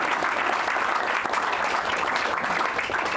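Audience claps steadily and warmly to welcome lawyer Clive Stafford Smith, a dense, even wash of applause filling the whole moment.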